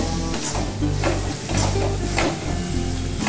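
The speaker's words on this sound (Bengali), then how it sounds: "ভেজে নেব" Food frying in a pan with a little mustard oil, a busy crackling sizzle with scraping and stirring knocks repeating about every half second, close and loud with no talk.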